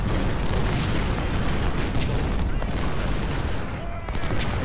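In a Civil War strategy game battle at the Siege of Suffolk, dense cannon booms and rifle volleys roll together in a loud, continuous barrage with heavy low rumble.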